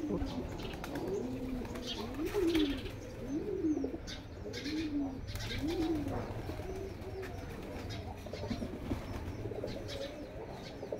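Rolling coos from pigeons in a new coop at a village home repeat steadily at close range, with chirps and some wing flapping mixed in and faint voices in the background.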